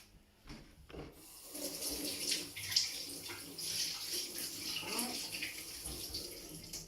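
Tomatoes are rinsed under a running kitchen tap, a steady splashing stream that starts after a brief quiet moment and continues evenly at moderate volume.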